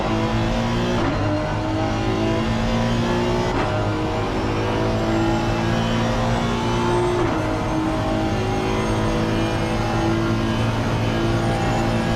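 Honda race car engine in a PC racing game, a loud sustained high-revving drone with steady harmonic whine and brief shifts in pitch, continuous and close throughout.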